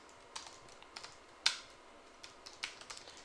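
Light keystrokes on a computer keyboard typing a git commit command, a quiet scattered run of clicks with one sharper tap near the middle, close and alone.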